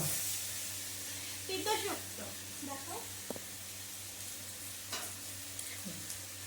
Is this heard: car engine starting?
no